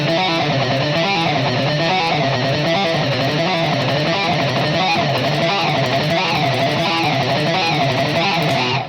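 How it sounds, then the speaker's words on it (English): Heavy metal electric guitar riff in a Phrygian mode, played palm-muted for a chugging, aggressive attack, sounding loud and dense as a steady driving rhythm that runs throughout without any talking over it. "if you want, is you can palm mute it, which gets a bit more of an aggressive sound like this."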